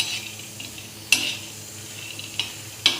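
Peanuts dry-roasting in a pan, with a steady low hiss broken by a few sharp, distinct crackling pops spaced apart, close and fairly quiet.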